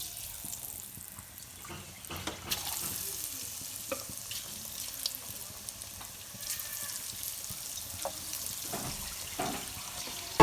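Potato fries pakora frying in hot oil in a home kitchen, a steady soft sizzle with occasional light clinks and stirring taps, moderately quiet and close, no talking.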